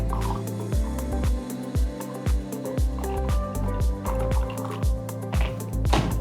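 Water is poured into a server of freshly brewed coffee, a short stream with uneven gurgling pulses and soft liquid splashes, close up with no talking.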